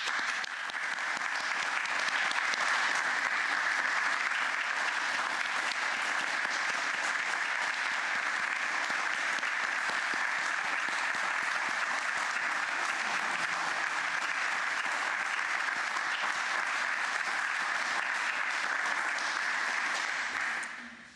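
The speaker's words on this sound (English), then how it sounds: "pour terminer la cérémonie, applaudissons les membres du 29e Conseil des ministres." A long, sustained round of audience applause at a federal cabinet swearing-in ceremony at Rideau Hall, steady and even for about twenty seconds before trailing off at the end.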